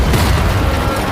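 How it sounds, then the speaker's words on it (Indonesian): A car explosion in the film Rogue (2020), a loud, rumbling blast that fills the space, with dense low booming and debris-like noise lasting about a second. "akhirnya salah satu mobil musuh pun meledak"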